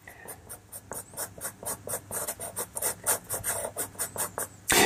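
Pencil sketching by hand on paper marked with a square drawing grid, heard as a steady run of short rhythmic scratching strokes, close and distinct, with no talking.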